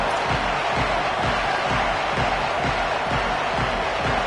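Home crowd at a BYU college football stadium against Oklahoma, a loud, dense wash of cheering and roaring fans sustained evenly from start to finish.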